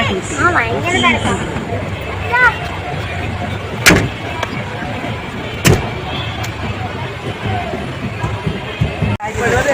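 Cars and people crowd a busy vehicle parking area on the way to Kottiyoor, with engines running and a steady hubbub of voices throughout. A few sharper knocks stand out over the dense, constant background.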